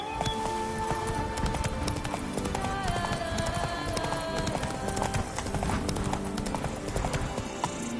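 The horse Roach gallops in The Witcher 3, its hoofbeats drumming steadily under a dense wash of game music and ambience throughout.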